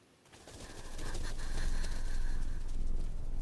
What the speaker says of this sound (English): It's freaking birds, lady.